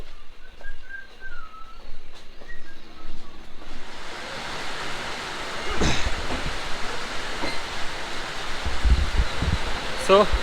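The Chilahati Express passenger train runs through Bangladesh. Quiet thin whistling tones open the sequence, then a loud, broad rushing rumble of the moving train builds and carries on, with brief sharp clanks near the end.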